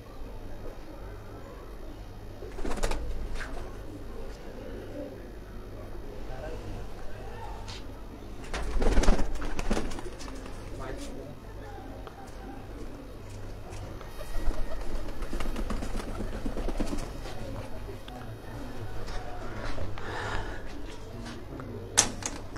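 Pigeons of a capped (topi-wala) breed coo in a loft, soft low calls recurring under nearby talk, with a few knocks and a louder burst of activity midway.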